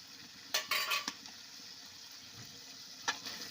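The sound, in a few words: eggs and peas being stir-fried in masala in a pan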